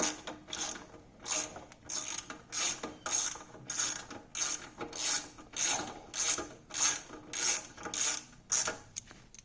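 A socket ratchet loosens the chain carrier bolts on a Honda 400ex, with about a dozen rhythmic rasping clicks in quick, evenly spaced strokes, close and clear with no talk.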